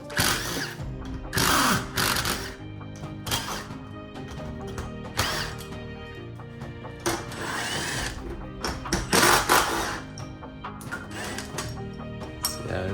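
A power driver backing the screws out of an old garage door opener bracket and hinge, giving short whirring bursts with clicks and pauses between them, heard close and with nobody talking.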